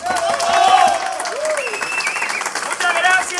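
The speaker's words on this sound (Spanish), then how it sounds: "Regálame un aplauso para ellos." An audience claps and cheers at a cumbia dance event, with lively shouts and whistle-like voices rising over the clapping.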